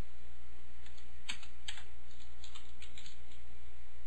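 Typing on a computer keyboard while formatting HTML text, with quick, close clicky keystrokes in uneven bursts over a steady background hum.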